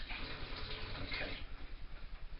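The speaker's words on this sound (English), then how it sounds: "I'll give my hands a quick wash, they're rather greasy" Running tap water splashes steadily over greasy hands being washed, a broad continuous hiss that thins out and breaks into softer, uneven splashes toward the end.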